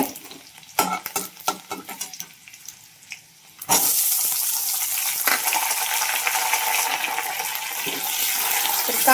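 Chopped onion hits hot oil already holding cumin, mustard seeds and garlic: after a few soft clinks and stirring taps, a loud sudden sizzle bursts up and keeps hissing steadily for several seconds, with occasional spoon scrapes and no speech.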